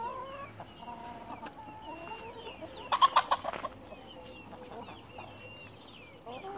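A rooster, a naked-neck breed, gives a short burst of loud clucking calls amid quieter background bird chatter and low farmyard noise from a chicken coop.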